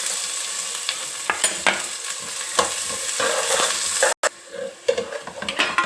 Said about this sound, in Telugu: నూనె వేడైనాక కట్ చేసుకున్న ఆనియన్ వేసుకోవాలి